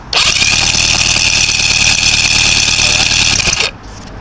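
Mercury outboard boat engine with a misfire, a loud close-up roar that starts abruptly, runs steadily for about three and a half seconds, then cuts off.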